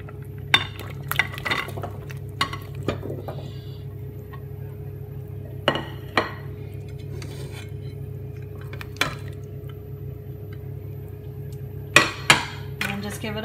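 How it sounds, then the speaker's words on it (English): A spoon stirs oxtail stew with vegetables in a metal pot, making scattered clinks and scrapes against the pot over a low steady hum. "And just give it all a stir around."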